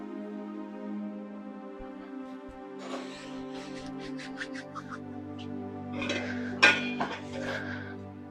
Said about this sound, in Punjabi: ਭਾਂਡੇ ਖੜਕੀ ਜਾਂਦੇ ਨੇ